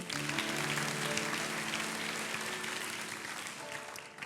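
A church congregation applauds at a GMS Church service, dense sustained clapping from a large crowd that fills the room loudly and then fades slightly toward the end.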